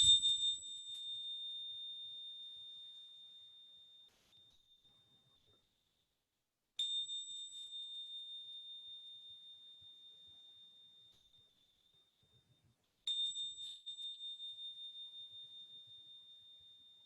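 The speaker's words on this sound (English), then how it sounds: "the sound of the bell." A bell rung three times during a pregnancy yoga class, each strike a clear high ring that fades slowly over several seconds in an otherwise quiet room.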